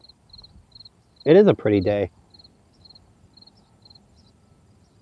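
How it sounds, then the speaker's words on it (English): A cricket chirps outdoors in faint, evenly spaced pulses that continue throughout, while someone speaks briefly over it in the middle. "I can hear a cricket right now."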